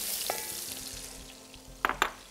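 Onions and ginger frying in a pan with a little browned onion, giving a steady soft sizzle and hiss, with a couple of sharp stirring clinks near the end.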